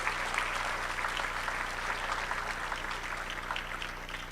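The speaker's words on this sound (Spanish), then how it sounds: "Les damos un fuerte aplauso a los cuatro," Audience at a panel dialogue on media literacy applauds the four panelists, a steady, fairly soft wash of many hands clapping under a constant low hum, continuing throughout without talk.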